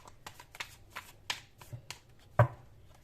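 Cards from The Light Seer's Tarot deck being shuffled by hand, a series of crisp riffling flicks and taps at close range in a quiet room, ending with a sharper snap.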